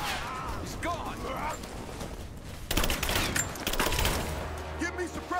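Sustained suppressing fire in a Rise of the Tomb Raider railyard battle, a rapid machine-gun-like fusillade that swells louder midway and keeps rattling beneath shouting voices.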